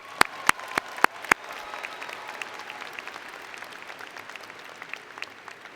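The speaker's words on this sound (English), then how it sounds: "So let's give them another round of applause." At a university commencement ceremony, a few loud, distinct claps ring out first, then a crowd breaks into sustained, moderately loud applause that continues steadily.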